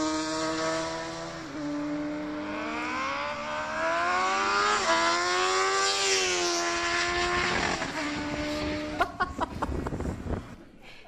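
A loud engine revs high and holds a rising, whining pitch as a motorbike races down a racetrack back straight at speed, with wind roar throughout and a few sharp gear shifts near the end.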